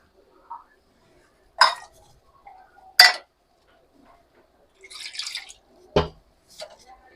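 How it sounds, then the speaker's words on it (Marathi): Small dried shrimp (kolim) being rinsed in water in a home kitchen, heard as a few sparse, close splashes and clinks spread across a quiet background. "कोलिम मी स्वच्छ धुवून घेते"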